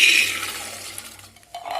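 Water poured into a pressure cooker holding cowpeas, a splashing, filling rush that is strongest at the start, then thins and trickles before a brief final gush. No voices.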